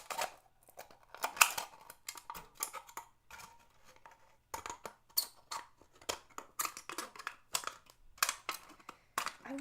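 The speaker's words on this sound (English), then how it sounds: "I'm not getting any better at cutting up these cans." Scissors cut through aluminum cans to make a costume belt, giving irregular bursts of sharp crunching and crinkling snips separated by brief quiet pauses, close and fairly faint.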